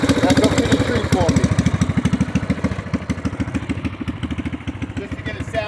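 A Predator 212 pit bike engine fitted with a Harley slip-on muffler runs close by, its exhaust thumping in a fast, steady pulse that holds loud throughout, with people talking over it.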